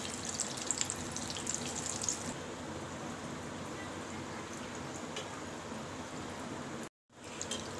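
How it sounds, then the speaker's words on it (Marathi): Batata vada potato fritters frying in hot oil, a steady bubbling sizzle heard close and continuous, louder crackling at first and then settling, with a brief dropout near the end. "छान असे वडे मस्त तेलामध्ये तळत आहेत बघा"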